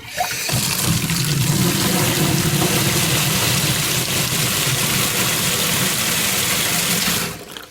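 Water poured from a bucket through a worm farm to flush it, a loud steady rush and splash that starts abruptly, runs continuously for several seconds, then stops.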